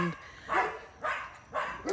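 Outdoors in Hawaii, a dog barks three times in steady succession, loud and near, with no speech over the barks.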